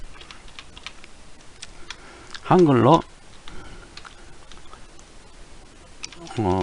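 Quick clicking keystrokes on a computer keyboard while entering text in Swish Max 4 software, light taps running steadily under two short bursts of a loud wavering tone.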